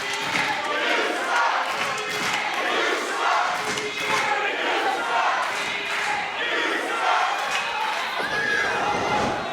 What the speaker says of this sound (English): this capacity crowd letting PPG know what they think of him